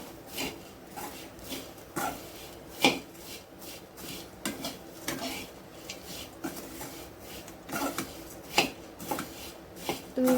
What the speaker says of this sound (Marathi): यामध्येच आता पोहे टाकून घ्यायचे आहेत अशा पद्धतीने छान मिक्स करायचं आहे